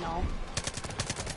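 An MP34 submachine gun fires in Far Cry 5 as a rapid string of sharp automatic shots, about ten closely spaced cracks in a steady rhythm after a brief lead-in of background noise.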